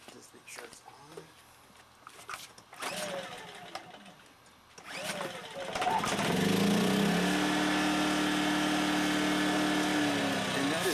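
Yamaha EF2000IS tri-fuel portable generator running on propane starts up partway through, then holds a loud, steady engine drone with a low hum; a person talks before and over it.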